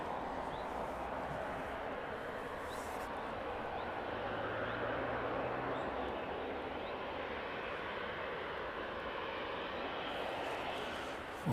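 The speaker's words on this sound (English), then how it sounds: "catch the Ryanair as it makes its way past us this evening" A Ryanair airliner taxiing past at East Midlands Airport in the evening gives a steady, broad jet engine roar at moderate distance, holding even throughout with no talk over it.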